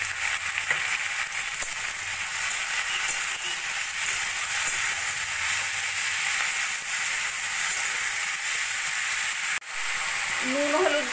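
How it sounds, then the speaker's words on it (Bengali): Small mourola fish frying in oil with salt and turmeric, a steady close-up hiss and sizzle that barely changes, with a faint voice-like sound near the end. "নুন হলুদ দিয়েও 2-3 মিনিট মতো ভাজা ভাজা করে নিয়ে"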